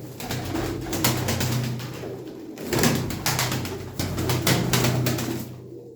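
Pigeons coo repeatedly in a loft or aviary, soft throaty calls layered over one another in a continuous murmur, with occasional dips in the chorus and no voices.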